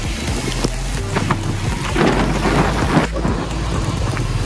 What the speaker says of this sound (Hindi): भाई, बहुत तेज बारिश हो रही